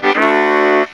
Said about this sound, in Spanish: La más grave es sol y suena así.